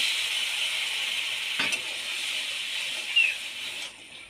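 Chili, turmeric and coriander powders sauté with a little water in a pan for a taro curry. The hiss is steady and bright, with one brief knock partway through, then it cuts off near the end.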